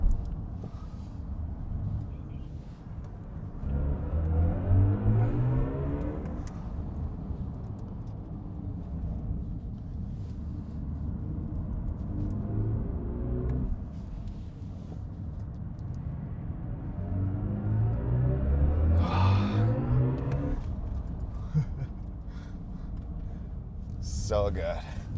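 A BMW i5 M60 electric car accelerating on a race track: rising whines sweep upward in pitch under a steady low road and wind rumble, with someone talking over it.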